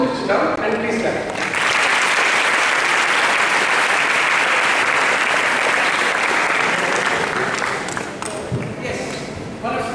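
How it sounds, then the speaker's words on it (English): A seminar audience breaks into loud, dense clapping after brief talk, holding steady for several seconds before tapering off as voices return. "sit down and please clap"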